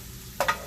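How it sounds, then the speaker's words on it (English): Chopped vegetables are stirred in a medium saucepan over medium-low heat, giving two quick scraping, sizzling strokes in a row against a low background hum. "So I'm just kind of stirring it around so none of them get too brown"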